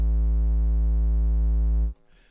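A bass-heavy synth preset from the Obeyed Bass Utopia sample pack holds one steady, loud, deep tone for about two seconds, then cuts off abruptly into faint residue.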